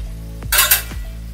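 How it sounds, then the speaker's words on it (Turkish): Beef shank simmering in a pan with cream and turmeric gives a short burst of sizzling and stirring, with faint utensil scrapes against the pan, close and brief. "Etimiz de kaynıyor."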